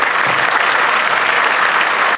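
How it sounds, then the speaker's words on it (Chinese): Loud, sustained applause from a large audience honouring veterans of the Battle of Guningtou at a Taiwanese ceremony, a dense continuous roar of clapping with no break. "我们给他一个热烈的掌声，感谢他们"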